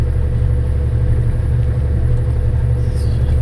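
A heavy Bharat Benz truck climbs the Thoppur hills in fifth gear, its engine a loud, steady low rumble that drones on without a break.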